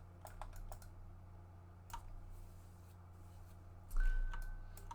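A computer keyboard is tapped in short bursts of crisp clicks, a few quick keystrokes then pauses, close and quiet, against a faint steady hum.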